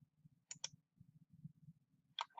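Two quick, sharp clicks of a computer mouse sound close by, with another pair of clicks near the end, over a faint low rumble and no speech.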